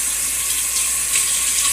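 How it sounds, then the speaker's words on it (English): Tap water running steadily into a sink while hands are washed, a bright continuous hiss-like splashing, close and loud throughout. "Excuse me while I wash my hands."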